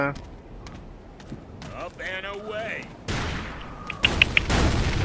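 Sniper rifle shots ring out in the video game Ace of Spades: loud, sharp cracks in a cluster near the end, over game noise, with a voice talking at times.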